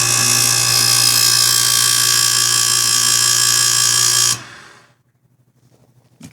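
A dishwasher motor runs as a loud, steady whine with a strong hum for about four seconds, then cuts off abruptly and winds down into near silence with a faint click at the end.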